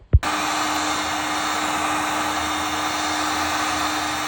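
A power sander starts with a thump and runs as a steady, loud, even whir with a faint hum underneath while sanding a Mustang bumper. No voices are heard.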